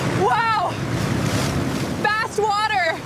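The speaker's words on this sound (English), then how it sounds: "Fast water!" Fast-flowing river water in the Amazon rushes loudly and continuously with a windy roar, while a voice speaks briefly over it at the start and again near the end.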